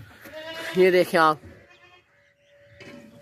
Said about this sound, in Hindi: साफ़ सुथरी मोटी ताज़ी बकरी।